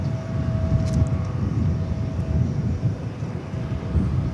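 A steady low jet roar rumbles from an American Airlines airliner departing the airport, fairly loud and continuous.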